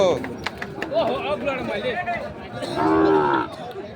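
Shahiwal-breed bulls and calves lowing at the Ambari cattle haat in Dinajpur, with several drawn-out moos rising over a steady hubbub of crowd chatter and nearby voices.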